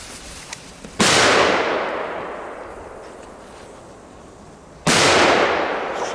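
Two very loud firecracker blasts go off outdoors in Belgium, one about a second in and another near the five-second mark, each a sharp bang followed by a long echoing decay.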